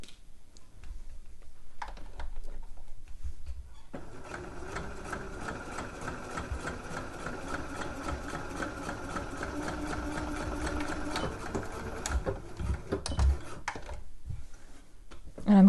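A sewing machine stitches a line across a dress pocket, running with a steady rapid mechanical whir and needle chatter for several seconds, stopping briefly near the start and end.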